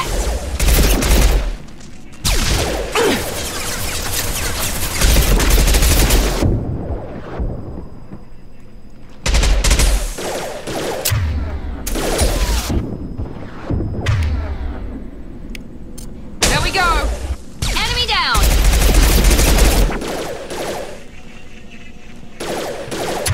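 Rocket launcher fire and explosions in the video game Mass Effect 2, loud repeated bursts and booms in several clusters across the stretch, with brief gaps and a voice speaking occasionally between them.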